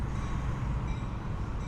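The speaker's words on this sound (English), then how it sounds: "looking at a Metra train that will take you downtown" A Metra commuter train at rush hour in downtown Mount Prospect rumbles steadily and heavily, a continuous low roar of rail cars rolling past nearby with no voices.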